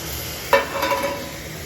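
Tomatoes dropped into frying meat masala in a pan for a beef roast, a short hiss and sizzle followed by a brief scrape of stirring, fairly close with no talk.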